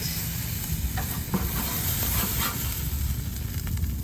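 Portobello mushrooms sizzle over a grill flame, a steady faint hiss and crackle with a few soft scraping touches, no talking.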